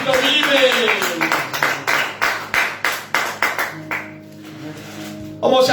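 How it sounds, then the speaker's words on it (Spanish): A church congregation claps in a steady rhythmic beat during a service, a dozen or so sharp hand claps under a voice, fading before a brief tone at the end. "Dale un aplauso"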